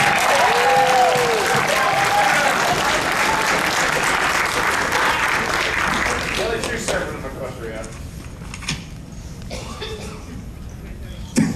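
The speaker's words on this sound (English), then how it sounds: "Let us give a round of applause for our boys in blue." A convention crowd at a Cartoon Court panel breaks into loud, sustained applause and cheering. It gradually thins out into scattered claps and a few voices toward the end.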